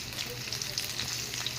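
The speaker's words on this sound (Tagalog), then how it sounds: "nanalsik yung mga mantika." Hot oil sizzles steadily with scattered sharp pops and spatters as Bisaya-style pork adobo fries in a pan, a short, moderately loud burst with no voices.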